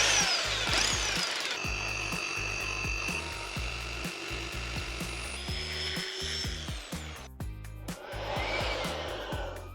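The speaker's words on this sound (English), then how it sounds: "Now I'm gonna mark on my drill bit how deep I need to go." A power drill bores into concrete for wedge anchors, with a loud, rough grinding whine that runs in bursts and changes pitch, then ends with a brief gap and a final rattling burst.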